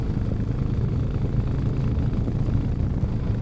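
A driving-school motorcycle engine runs steadily while being ridden, a continuous low rumble with wind buzz, loud and close throughout with no voices.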